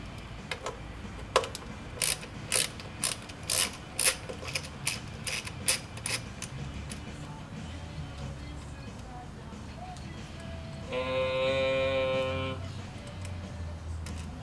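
Bolts are unscrewed by hand from a 2006–2012 Mitsubishi Eclipse GT 4G engine during fuel injector replacement, giving a run of quiet, separate ratcheting ticks, then a short burst of faster, louder clicking near the end.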